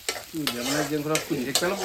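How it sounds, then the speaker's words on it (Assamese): Tomatoes and onions fry in a pan in a home kitchen, a steady close sizzle broken by several clanking stirs of a utensil against the pan. "এইফালে পূৰা বিলাহী পিঁয়াজ ভাজি আছে"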